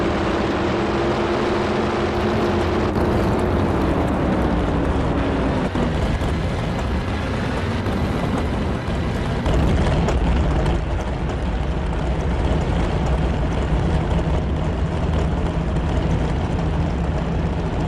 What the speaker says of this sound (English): These engines hit decibel levels of 150 dB, which is as loud as a fighter jet.